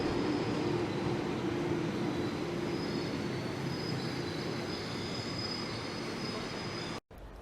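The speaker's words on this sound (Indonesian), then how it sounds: "KRL Komuter Line adalah pelayanan transportasi kereta tertua di Indonesia" A KRL Commuter Line train runs through Greater Jakarta with a loud, continuous rumble of wheels on rails and steady mechanical noise, unbroken until a sudden brief dropout near the end.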